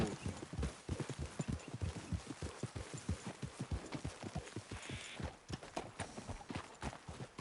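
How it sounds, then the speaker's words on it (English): Several horses trotting on a road in the Red Dead Redemption 2 video game, a fast, dense run of hoof clip-clops close by with a brief whinny partway through. "Best leave the horses back a bit."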